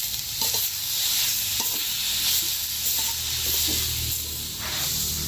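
Drumstick (moringa) leaves stirred and frying in a pan for a Tamil sundal dish: a steady hiss of sizzling with a series of soft spoon scrapes and clacks close by, with no voices.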